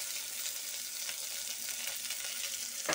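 Green chillies and drumstick pieces frying gently over a low flame, giving a steady soft sizzle with faint stirring scrapes and a louder clink near the end.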